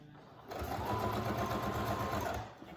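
A sewing machine whirs in one close, steady burst of fast stitching, sewing over elastic at the corner of a child's face mask, starting abruptly after a quiet moment and easing off near the end.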